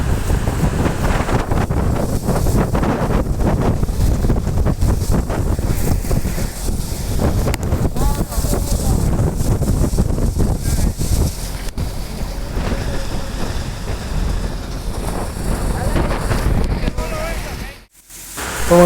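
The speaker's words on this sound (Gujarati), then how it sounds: "અજમો કાઢતા હતા તો જોરદાર પવન આવી ગયો" Strong wind blows across an open field where ajwain is being threshed, a loud continuous roar buffeting the microphone and rising and falling in gusts, with faint voices in the background before it briefly drops near the end.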